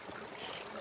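Creek water runs over rocks outdoors on a park trail, a faint steady wash of babbling flow lasting under a second.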